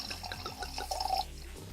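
Malbec wine is poured into a glass, a close gurgling trickle of liquid with a rising glug as the glass fills, then a few light drips.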